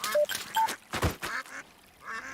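Ducks at a pond in the audio adventure game A Hero's Call quack repeatedly in short nasal bursts, several calls overlapping in an uneven rhythm, fairly close.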